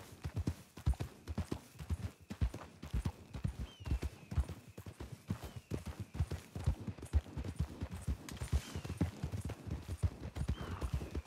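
A horse's hooves clip-clop steadily near a stable, a rapid run of close, distinct hoof strikes on hard ground that continues throughout, with a faint whinny-like sound late on.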